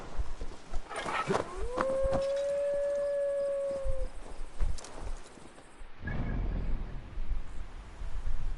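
Wolves howl in the video game Assassin's Creed Valhalla: one long, rising then level howl stands out over a busy bed of game ambience, followed by rustling and rumbling movement noise.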